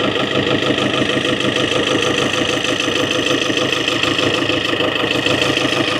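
A Land Rover Series 3 with a 200 TDI diesel engine idles close by, a loud, steady, even rumble with a continuous fast knock, running without a break.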